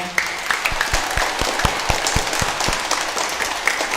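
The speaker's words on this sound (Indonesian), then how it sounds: "Tepuk tangan buat mereka." A crowd applauds steadily at a Christmas Eve Mass in a parish church, a dense wash of clapping with scattered sharper claps standing out, moderately loud and continuous throughout.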